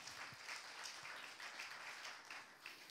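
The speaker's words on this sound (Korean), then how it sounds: "박수 한번 돌리겠습니다." A congregation at a Saturday church service breaks into applause, a continuous, fairly faint patter of many hands clapping for three seconds without speech.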